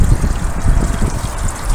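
Rainwater trickles steadily into a partially plugged roof conductor, a close, continuous watery rush with a low gurgling undertone and no voices.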